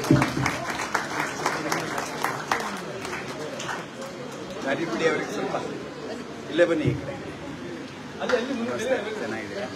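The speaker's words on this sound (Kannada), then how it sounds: "ಚಪ್ಪಾಳೆಯೊಂದಿಗೆ ಸ್ವಾಗತಿಸಿ." Audience applause fills the hall at a community event welcoming a radio artist, steady clapping from a crowd with murmuring voices, fading slightly then swelling again.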